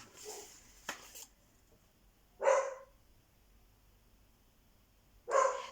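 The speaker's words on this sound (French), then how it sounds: "Alors, le chien aboie." A dog barks in two short bursts a few seconds apart, fairly close and loud, against a quiet indoor background with a brief earlier sound at the start.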